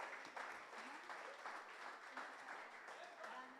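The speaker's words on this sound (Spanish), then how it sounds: "Um forte aplauso para Jaden." Church congregation at a Sunday service clapping for a young drummer, a steady wash of applause with some voices and faint tonal sounds mixed in.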